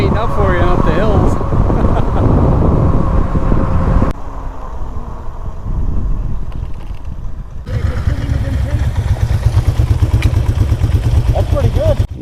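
A 52V, 3000W-peak dual-motor electric bike rides at around 35 mph, with strong wind rush and road noise, a faint motor whine and a rider talking through much of the run.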